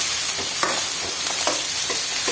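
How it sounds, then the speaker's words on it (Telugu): Drumsticks, onion, green chilli and garlic stirred in hot oil in a pan, a steady close sizzle with a few soft scraping strokes of the spoon spaced through it, no voices. "ములక్కట్టలకి మొత్తం ఆయిల్ పట్టేటట్లుగా ఇలా మిక్స్ చేసుకోవాలి."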